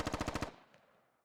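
Automatic gunfire in a squad-based military shooter game gives a quick run of about seven evenly spaced loud shots, then a brief echoing decay into quiet.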